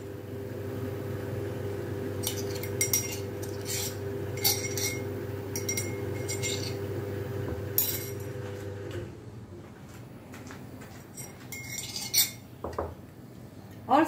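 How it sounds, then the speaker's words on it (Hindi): A bowl of sattu flour is worked with spice paste, making soft scraping and mixing sounds over a low hum, with clinks of a utensil against the bowl. "अब हम इस पेस्ट को सत्तू में मिलाएंगे।"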